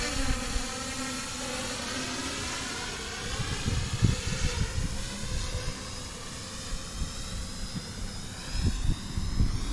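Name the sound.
FPV drone motors and props at full throttle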